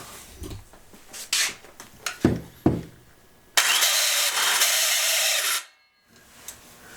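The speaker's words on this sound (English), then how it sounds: "This is an old Stanley belt sander I inherited from my dad." An old Stanley belt sander sputters through a few rough bursts, then runs at a loud steady roar for about two seconds before stopping abruptly, close by with no talk.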